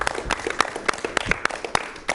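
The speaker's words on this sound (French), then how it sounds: "Et on applaudit" An audience gives a child brief, scattered applause at a televised summer gathering in Bamako, Mali: sparse distinct claps, a handful of sharp hand strikes spread unevenly rather than a dense ovation.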